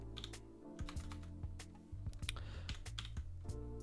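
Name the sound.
typing code on a computer keyboard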